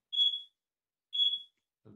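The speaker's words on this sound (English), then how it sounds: "Somebody's beeping." Two short, high-pitched electronic beeps about a second apart, clean and isolated, followed by a faint low rumble.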